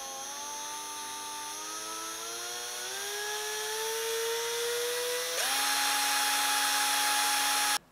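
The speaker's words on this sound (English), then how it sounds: "grab the wires by the little wrap that you made, hold them nice and tight, and start the drill" A power drill twisting fine wires together whines close by, its pitch climbing steadily as it speeds up, then jumping to a louder, higher steady whine before cutting off abruptly.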